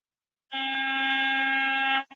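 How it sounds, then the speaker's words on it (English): A loud, steady truck air horn blares for about a second and a half, then gives one short final toot. "Hit them air horns for me again"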